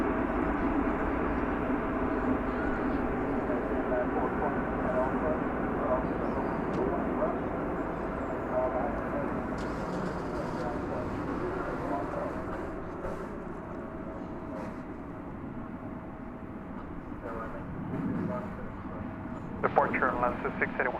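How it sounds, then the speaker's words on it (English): An American Airlines airliner arriving from Santa Ana at Dallas Fort Worth, a steady engine rumble under ongoing talk and radio chatter, with a brief sharper burst near the end. "American Airlines flight arriving from Santa Ana in the foreground."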